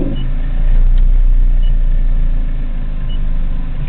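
Electric vehicle motor running on a NETGAIN Warp controller as the throttle is pressed, giving a low steady rumble that swells slightly, close and alone without talk.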